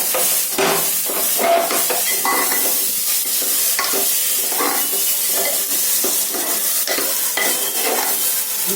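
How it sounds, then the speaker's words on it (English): Ghee rice being stirred in a pan, with repeated scraping strokes of a spoon against the pan over a steady sizzle, close and fairly loud, and no voices. "I'll mix it well."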